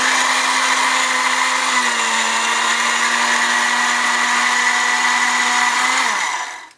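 A countertop blender purees oats, egg whites and blueberries with a loud, steady motor whine that holds at one pitch for several seconds before dropping and cutting off at the end.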